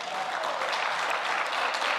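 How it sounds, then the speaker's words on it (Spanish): A church congregation applauds during a sermon, a dense continuous wash of many hands clapping at moderate distance, steady and sustained throughout without a break. "Denle un aplauso a Cristo"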